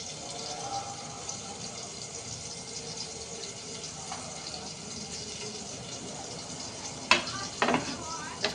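Pieces of broiler chicken for a roast frying in a pot, giving a soft, steady, continuous sizzle, with a few louder clatters and stirring knocks near the end.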